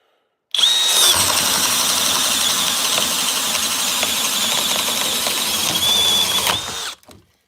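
A cordless drill, apparently a Kobalt, Flex or DeWalt on a 4 amp-hour battery, runs on low speed driving a 1 3/8 bit under heavy load. It gives a loud, steady, grinding whine for about six seconds, with a brief squeal at start and end.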